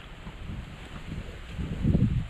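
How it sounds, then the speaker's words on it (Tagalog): Strong wind blows across open water, a steady low rumbling buffet on the microphone that swells louder near the end, with no voices. "Grabe naman ang hangin."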